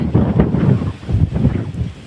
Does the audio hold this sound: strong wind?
yes